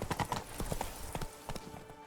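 The horse Roach gallops in The Witcher 3, its hooves beating a quick, rhythmic clip-clop at moderate volume, with no voices over it.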